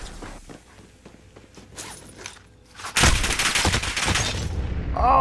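Sudden burst of loud, dense gunfire in a battle-royale style video game, starting after a few seconds of quiet footsteps and movement, then sustained rapid shots to the end with no talk.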